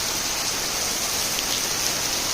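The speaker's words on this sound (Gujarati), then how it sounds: "અને આમ જો આ વરસાદ." A heavy downpour hisses down steadily, a dense, even wash of rain striking surfaces nearby, constant and unbroken with no talking.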